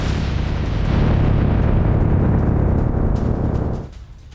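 Missile attack explosions heard in news footage, a continuous loud deep rumbling roar of blasts that drops away abruptly near the end.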